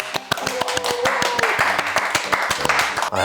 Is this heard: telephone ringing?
no